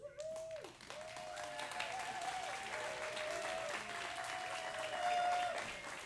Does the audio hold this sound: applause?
yes